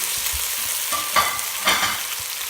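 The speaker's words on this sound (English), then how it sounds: "now what we're doing is really we're just stirring it through to get that garlic and chili right throughout the pasta" Pasta with garlic and chili is stirred and tossed in a hot pan, a steady close sizzle with a few scraping swishes of the utensil.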